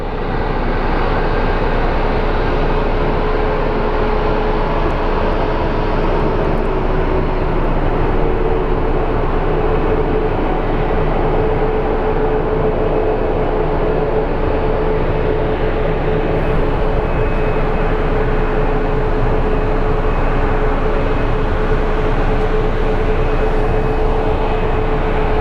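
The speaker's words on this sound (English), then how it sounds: "We have our Salt Lake City bound flight taxiing right now. Little Airbus A320." An Airbus A320 airliner taxiing at Phoenix Sky Harbor International Airport, a loud, steady jet engine roar and rumble that holds constant throughout, with no voices.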